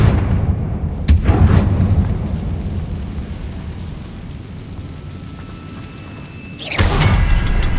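The Confringo blasting spell in Hogwarts Legacy goes off as a deep rumbling boom with sharp cracks, loud and close, followed by a fading roar and another blast at the end.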